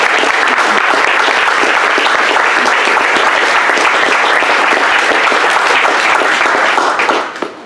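An audience applauds Edward, the Summer of Code organizer, with loud, dense, sustained clapping that continues steadily before tapering off at the end.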